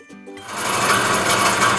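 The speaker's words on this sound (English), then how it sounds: "We have the compressor running right now, which you can hear in the background" A compressor drawing propane vapor out of a scavenger tank runs with a fast, rattling mechanical chatter that starts up and then holds steady and fairly loud.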